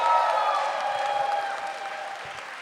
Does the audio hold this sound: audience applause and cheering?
yes